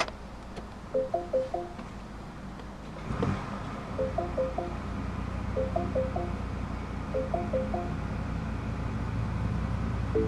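A 2018 MINI Cooper S E Countryman ALL4 is started with its centre-console toggle switch: one soft thump, then short electronic chime patterns repeat faintly over a low cabin hum. No one speaks.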